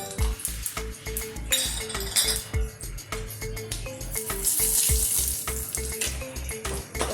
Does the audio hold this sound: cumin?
yes